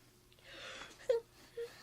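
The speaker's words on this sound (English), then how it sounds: "will you please stop yawning?" A drawn-out, breathy yawn from a person, rising into a moaning voiced tone and then trailing off with a short second groan. It sounds soft and close in a quiet room.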